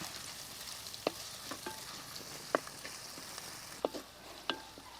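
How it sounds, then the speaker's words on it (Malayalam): Slit green chillies fry in a pan under a soft, continuous sizzle, with a spoon stirring them in several distinct scraping taps spread across the span. "ഇനി അതിൻ്റെ പച്ചമുളകൊക്കെ ഒന്ന് നമുക്ക് ഇളക്കി കൊടുക്കാം"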